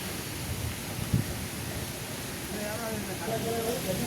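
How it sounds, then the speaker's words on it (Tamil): Light drizzle and wind starting up in the countryside ahead of a cyclone: a steady soft hiss of breezy rain with faint tonal chirps and murmurs in the background. "மழை சாரல் காற்று கொஞ்சம் கொஞ்சமாக ஆரம்பிச்சிருக்குது."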